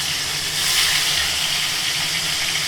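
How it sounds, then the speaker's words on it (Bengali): Large pieces of hilsa fish frying in hot oil, a loud, close, unbroken hissing sizzle that swells slightly and then holds steady. "আজকে ইলিশ মাছটা বেশ বড় সাইজের পিসগুলো আগে ভেজে নিই"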